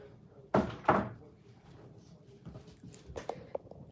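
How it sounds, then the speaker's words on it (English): A door being closed indoors, two close thumps in quick succession followed by softer knocks and rustling, with faint movement around it. "I try to close the door so that I can talk to you guys in peace"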